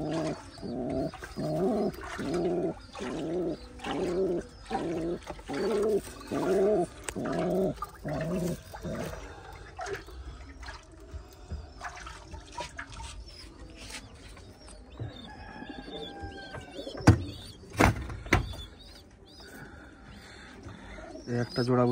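A newly settled pair of Star Kalanka pigeons coos in repeated low, throaty pulses for the first ten seconds, close and steady, then gives way to quieter mixed bird calls and scattered knocks and rustles.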